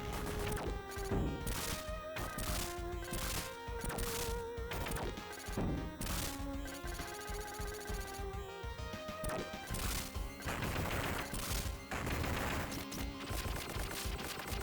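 Constant gunfire and impact crashes burst from the homing spread gun in Contra Hard Corps, firing in a dense, rapid rhythm against enemies coming out of a wall. The explosions are loud and busy, layered over game music, and no one speaks.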